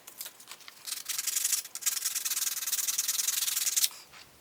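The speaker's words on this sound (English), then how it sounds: "I'll sand a bit, I'll look everything over, and then I keep sanding" Steady sandpaper rubbing on a carved wooden topwater banana fishing lure, a continuous raspy scratching in quick back-and-forth strokes, close up, pausing briefly near the start and stopping abruptly at the end.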